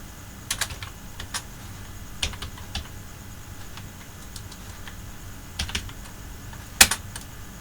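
Keys on a computer keyboard are pressed in irregular, sparse clicks while a resume is typed in MS Word, with one sharper tap near the end and no talk.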